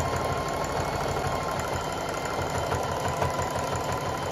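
A sewing machine stitches a rug, running as a continuous, loud mechanical hum with a fast, even rhythmic chatter throughout and no pauses.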